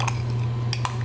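A metal spoon stirs a thick matcha latte in a cup, giving three sharp, close clinks: one near the start and two in quick succession near the end, over a steady low background hum with no voices.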